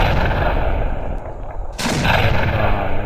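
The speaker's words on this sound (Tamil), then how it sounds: "இது பயங்கரமாக வெடிக்குங்க" A Diwali firecracker bursts in one sharp, loud explosion midway, set between stretches of crackling, popping background noise outdoors.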